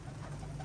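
A brief, soft pigeon coo, low and throaty, heard up close.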